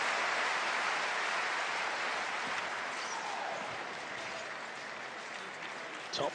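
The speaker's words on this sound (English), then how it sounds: "And the crowd are loving this, and why wouldn't you?" Crowd applause at a table tennis men's doubles match at the 2017 World Table Tennis Championships, a steady broad wash of clapping that fades slightly over several seconds, with a brief sharper burst near the end.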